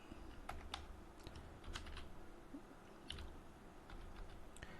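Fast, irregular clatter of keys as code is typed on a computer keyboard, quiet and close, in short runs with brief pauses.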